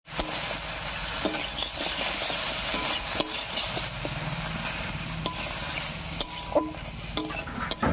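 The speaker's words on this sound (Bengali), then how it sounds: "এবারে দেবো জল।" Ground spice paste for a bata fish curry fries with a steady, close sizzling hiss while water is added, with occasional scrapes and clinks of stirring throughout.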